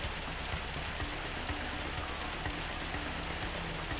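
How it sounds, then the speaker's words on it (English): Steady rain falling in the video game Grandia, a continuous broadband hiss of drops on surfaces that holds even and unbroken throughout, with no voices over it. "It is raining."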